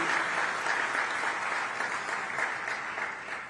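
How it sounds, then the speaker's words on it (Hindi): A crowd claps steadily in welcome for a revered swami at a Shankaracharya festival gathering, a dense, even wash of applause that holds throughout and tapers slightly at the end. "आप भी तालियां बजा के उनका स्वागत कीजिए, अभिनंदन कीजिए।"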